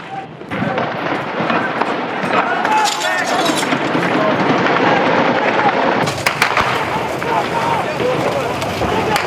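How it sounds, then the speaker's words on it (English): Heavy gunfire and weapons fire crackle and boom through street clashes between Druze militias and Bedouin fighters in Suwayda, Syria, a dense, loud, continuous barrage with sharp bursts and someone talking over it. "Furious amount of firing and some heavy weaponry coming in now."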